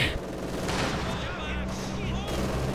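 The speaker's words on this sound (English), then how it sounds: "Taking machine gun fire." Bursts of machine gun fire and explosions fill a Company of Heroes 2 battle, rattling and booming continuously under a narrator's voice.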